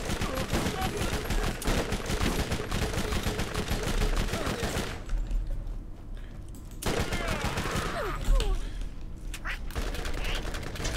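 Machine guns in the Borderlands video game fire in dense rapid bursts. The loud chattering volleys stop briefly and then resume with renewed bursts, with occasional muffled talk behind the gunfire.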